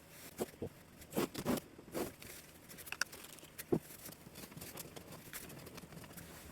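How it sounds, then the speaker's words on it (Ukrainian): Adhesive tape is peeled off a surface in short, faint crackling tugs and rips, with quiet rustling between pulls. "Знімаємо одразу скотч."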